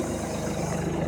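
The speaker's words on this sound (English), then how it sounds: "I'm sorry about the noise of the tractor" Tractor engine running steadily at a low rumbling idle, close and continuous, with no talk.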